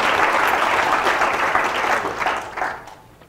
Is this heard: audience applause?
yes